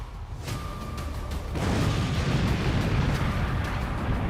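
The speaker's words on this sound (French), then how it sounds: "mais en repartant et en traversant la route, il a heurté une mine" An armored military vehicle hits a land mine while crossing a road, and a loud, rumbling explosion roars out of a steady wash of noise. The blast swells into a sustained, heavy roar that carries on to the end of the clip.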